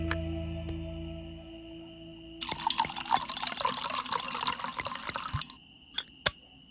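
Water pours into a bowl in a fantasy video game: a steady splashing stream starts suddenly and runs for about three seconds, stops, and a couple of single drips follow.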